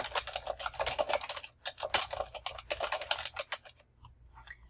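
Quick bursts of typing on a computer keyboard, close and clear, with a rapid, uneven patter of key clicks that slows and trails off toward the end, no voices.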